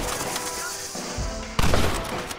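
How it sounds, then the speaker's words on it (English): Gunfire in the western video game Red Dead Redemption, a sharp loud shot late in a short stretch of busy game noise, with voices heard beforehand. "Why are you shooting?"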